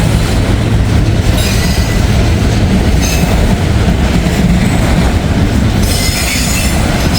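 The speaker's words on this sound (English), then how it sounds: "It's gonna be a long train here." A long freight train carrying auto racks rolls past close by with a loud, continuous rumble. Rattling railcars and a high metallic squeal from the wheels run under it, and there is no talking.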